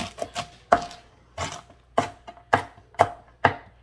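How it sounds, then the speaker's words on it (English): A knife chops beet greens finely on a cutting board, giving about eight sharp, close strikes in an uneven rhythm with short pauses between them. No one speaks. "I'm going to make sure we get these chopped up real fine."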